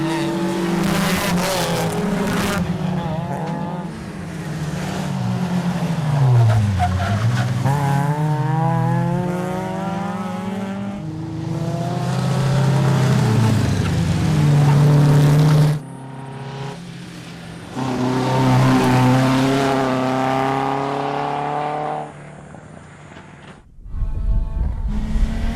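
Rally cars on an all-tarmac hill climb track with jumps, off-camber corners and steep slopes, engines revving and rising in pitch as they accelerate and shift, loud and close, with a short break near the end before another burst.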